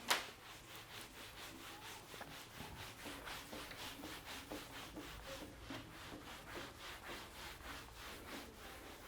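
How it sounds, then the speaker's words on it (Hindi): Steady rubbing strokes of an eraser or duster wiping writing off a board during a physics class, a continuous scratchy swishing that runs alone with a sharp tap at the start. "इसको मैं रब कर देता हूँ"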